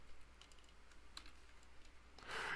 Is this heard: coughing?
no